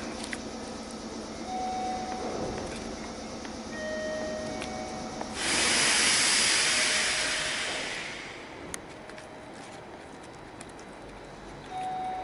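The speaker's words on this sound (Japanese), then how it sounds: "2番線から電車が発車します。" A train pulls out from platform 2 at Higashi-Okazaki station: a steady low station rumble, then a loud, broad hissing rush swells for about three seconds before fading back to quieter platform ambience.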